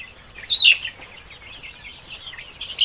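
Tiger chickens on a farm give a brief, fairly close clucking call early on, followed by softer, scattered bird chatter over a quiet background.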